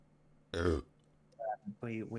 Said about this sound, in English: Just hear a random belch from somebody in the crowd.